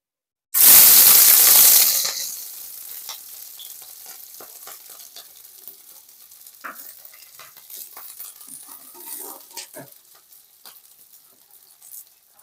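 Chopped onions hit hot oil already crackling with cumin seeds, setting off a loud, bright sizzle that quickly settles into a steady, softer frying hiss with occasional clicks of stirring.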